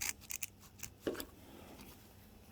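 Scissors snip through a piece of material while a Suzuki KingQuad fuel filter is being replaced, giving a few sharp close cuts followed by a louder final snip and faint handling noise.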